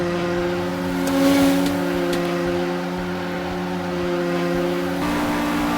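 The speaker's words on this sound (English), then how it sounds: "there were more than a few times where the car audio glitched out" Glitching car engine audio in the Roblox game Roblox Rally hums steadily with a few abrupt stutters and a sudden tonal shift near the end, sounding like looping, glitchy engine audio.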